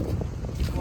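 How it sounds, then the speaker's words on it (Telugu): Cool morning wind buffeting the microphone near a Kuwait beach, a continuous low rumbling roar for under a second, loud and close. "చల్ల గాలి తోలుతుంది మార్నింగ్."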